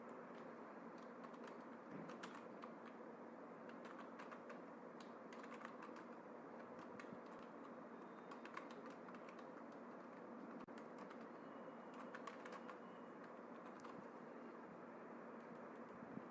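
Faint keyboard typing, soft scattered key taps under a steady background hum, no voices.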